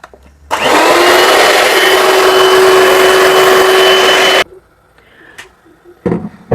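An electric mixer whirs loudly and evenly for about four seconds, whisking a warm milk mixture for Napoleon cake cream. It then cuts off, leaving a few soft clinks and knocks.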